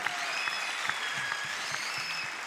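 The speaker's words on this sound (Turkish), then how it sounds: "Bir alkış alabilir miyiz dansçılarımıza da?" Studio audience applauding dancers on a Turkish televised singing competition, a steady dense clatter of many hands sustained throughout, with no talk over it.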